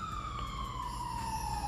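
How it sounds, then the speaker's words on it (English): A single emergency vehicle siren wails steadily nearby, its tone sliding slowly downward over a low rumble of background noise, heard alone without voices. "Pardon the sirens."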